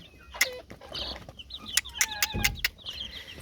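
Young chicks on a small farm cheep and chirp in quick, bright bursts with soft clucks mixed in, close by and fairly busy, with no talking.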